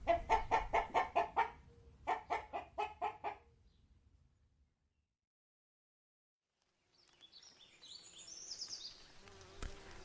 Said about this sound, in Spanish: galiña,